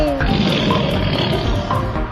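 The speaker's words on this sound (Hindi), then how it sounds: "आजा शेर दहाड़े।" A cartoon lion gives a loud, sustained roar in a children's animal rhyme, with a bright musical backing throughout.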